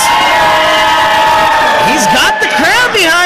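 A wrestling crowd cheers for Lucio DeVere at an Imagine Wrestling show, a loud sustained roar with rising whoops and shouts, while a commentator talks over it.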